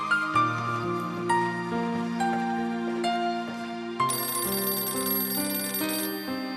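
A telephone in a home rings with a repeating electronic melodic ringtone, steady and fairly loud, with no voices over it.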